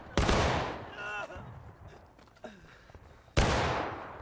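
Civil War reenactors fire muskets at an outdoor event with the 8th Florida and 8th Alabama units, firing independently rather than in a volley: two sharp, booming shots with echoing tails and a smaller pop between them, while a voice calls out.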